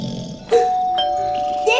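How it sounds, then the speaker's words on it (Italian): Doorbell chiming in a home, a bright ding-dong tone struck twice with a sustained ring between the strikes, loud and close. "Ha suonato il campanello, papà, andiamo ad aprire!"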